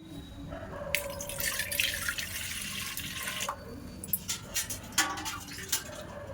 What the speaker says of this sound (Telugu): 2 గ్లాసులు నీళ్లు పోసుకుంటున్నాను